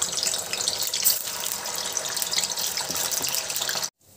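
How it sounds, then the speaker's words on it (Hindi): Paneer slices frying in hot oil for matar paneer, giving a steady, close, hissing sizzle that fills the moment and then cuts off abruptly near the end. "फ्रेंड्स, हमारा तेल हो गया है गर्म, इसे अपने पनीर को डाल के हम फ्राई कर लेंगे।"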